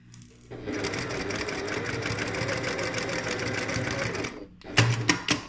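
A sewing machine runs steadily for about four seconds, tacking the seam around the edge of a lined messenger bag within the seam allowance, then stops and gives a few short, closer bursts of stitching.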